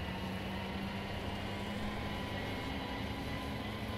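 A jet aircraft in Battlefield 2042 gives a continuous, loud, even engine roar with a steady whine held throughout and no talk over it.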